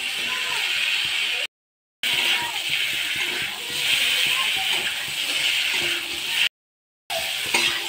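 Water poured into a hot pan of cauliflower and potato curry gives a steady rushing hiss and slosh, broken by two abrupt silent cuts.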